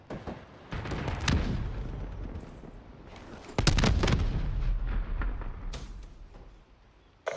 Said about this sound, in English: Hellstorm inbound.